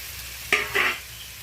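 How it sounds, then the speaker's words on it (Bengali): Two quick bursts of frying sizzle as prawns are stirred in a hot pan, brief crackling scrapes over a steady low kitchen hum. "এই মশলার সাথে হালকাভাবে আমি কয়েকবার নেড়ে নেব।"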